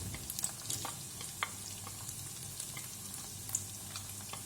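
An egg omelette with tomato and onion sizzles quietly in a pan, a low steady frying hiss broken by a few faint scrapes and clicks of stirring, with no voices.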